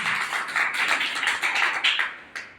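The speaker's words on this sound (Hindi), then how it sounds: "अरे बहुत बढ़िया सर के लिए शानदार तालियां।" Applause from a seminar audience, a dense patter of many hands clapping steadily for a couple of seconds before trailing off, with no voices over it.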